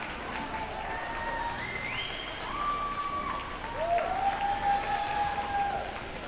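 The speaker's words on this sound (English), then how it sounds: "please a big round of applause for both of our most valuable players" Spectators at a roller derby bout applaud and cheer the players, a steady crowd roar with clapping, swelling toward the end while whistles sound over it.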